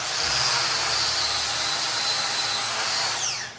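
A wire wheel on a power tool strips weld spatter from a steel table with a loud, steady whirring grind close by that holds throughout and winds down at the very end.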